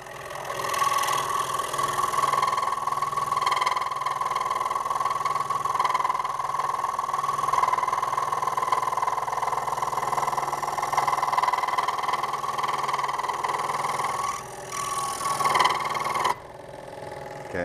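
A scroll saw runs steadily as it cuts through wood, giving a continuous mechanical buzz with a sustained tone that holds at an even level and stops abruptly near the end.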